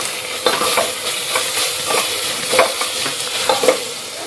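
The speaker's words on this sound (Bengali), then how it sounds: "সমস্ত মশলাটা খুব ভালো করে ফ্রাই করে নিচ্ছি।" Chilli and turmeric powder frying in oil with green chillies for a mixed-vegetable tehari, a steady close sizzle broken by repeated scraping stirs of the spoon against the pan.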